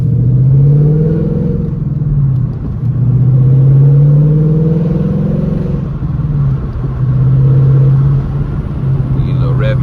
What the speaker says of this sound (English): Hopefully I can hear this exhaust.